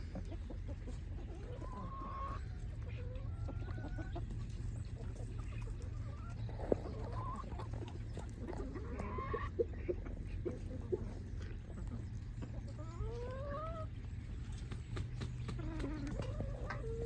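Chickens in a farm coop give soft, scattered clucks and short calls, faint and a little distant, over a steady low background hum.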